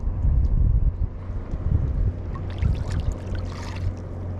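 Waves slosh and slap against a small boat, with rumbling wind noise buffeting the microphone throughout.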